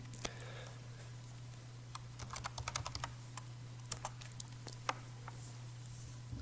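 Quiet typing on a computer keyboard while entering terminal commands, irregular clusters of soft clicks and taps over a faint steady hum.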